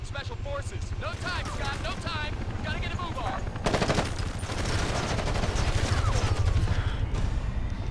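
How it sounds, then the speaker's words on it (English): Sustained enemy gunfire in the tactical shooter Ghost Recon Advanced Warfighter, rapid machine-gun bursts and rattling shots continuing throughout, growing louder and denser midway, with game voices talking over the start. "I guess because 20 million people were shooting at me"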